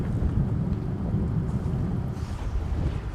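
Thunder in a stormy scene from the video game Elder Scrolls Online, a dense, continuous low rumble with rain-like hiss, steady and fairly loud with no talk.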